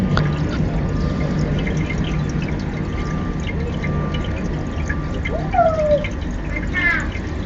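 Water pours and splashes steadily onto choy sum vegetables grown in recycled plastic bottles, a continuous close hiss and trickle of liquid with faint chirps in the background.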